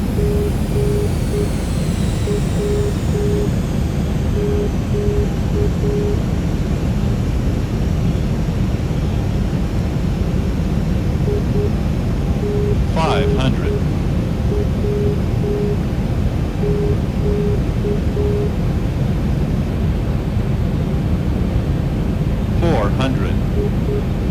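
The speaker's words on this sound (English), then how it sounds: "Clear to land runway 28 right Delta 43." A Boeing 737 MAX airliner on landing approach, heard as a loud, steady cockpit roar of engine and airflow filling the whole stretch, with intermittent tones and radio voices over it.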